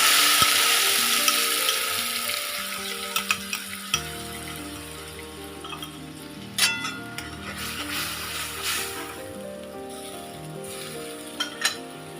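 Mustard paste for a rui fish curry hits a hot pan and sizzles steadily, with occasional clinks and scrapes of stirring over a sustained tonal hum.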